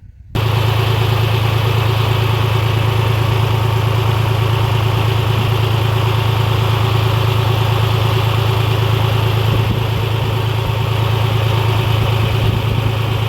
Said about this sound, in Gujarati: ચલો હું જાઉં છું હવે ટ્રેક્ટર હાંકવા માટે